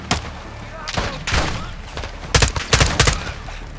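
Call of Duty: Modern Warfare II gunfire bursts out in loud, close volleys, with scattered shots early on and rapid clustered rounds near the end, while a voice shouts over the shooting.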